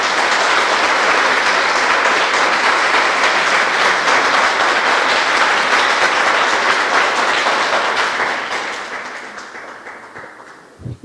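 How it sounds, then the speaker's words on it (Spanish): A church congregation gives loud, dense, sustained applause during a sermon, holding steady for about eight seconds before tapering off into quiet. "Regalémosle un fuerte aplauso al Espíritu Santo"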